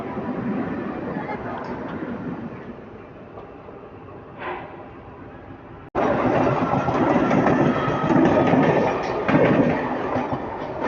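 Train running alongside the Gujarat Superfast Express (22954, Ahmedabad to Mumbai Central) near Goregaon, a steady rumble and clatter of wheels that grows louder and fuller partway through, heard close from aboard.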